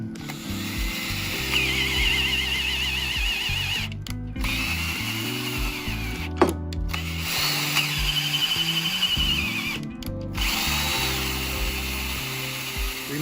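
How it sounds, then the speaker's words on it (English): A power drill at low speed taps threads with an oiled tap, whirring with grinding, ratcheting mechanical noise, pausing briefly a few times, steady and close. "First I'm going to oil the drill tap. Make sure I'm on a low speed."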